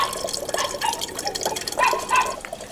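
Water is poured for green tea at breakfast in Kunming, giving a close, continuous splashing and trickling sound with small liquid ripples, and no one speaks.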